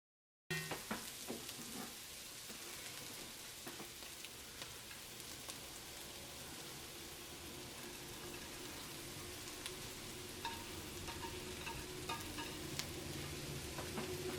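Noodles fry in a hot pan, giving a steady, dense sizzle with scattered crackles and light scraping from stirring that continues unbroken throughout, fairly faint and with no voices.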